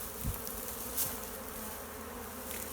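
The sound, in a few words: honeybees buzzing around a hive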